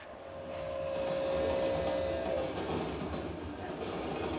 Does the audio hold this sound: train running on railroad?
yes